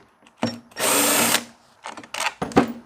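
A power drill or driver whirs in short close bursts, one long run in the middle and a few quicker ones after, backing screws out of a Stihl BR700 backpack blower during a tune-up.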